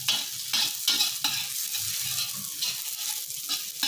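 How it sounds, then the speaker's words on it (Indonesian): Nasi goreng fried rice sizzles in a hot pan while being stirred, with rhythmic scraping strokes of the spatula over a constant loud frying hiss, close up and with no speech. "Kita pusing-pusing dia biar dia masak sempurna."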